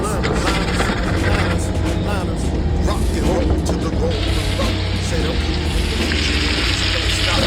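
Shrimp partially cooking in a hot pan gives a steady, dense sizzle throughout, with low background hum and faint kitchen noise underneath.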